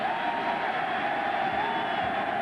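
Sellout stadium crowd of partisan LSU football fans at the Independence Bowl in Shreveport, a broad continuous roar of distant cheering with a few whoops, steady throughout.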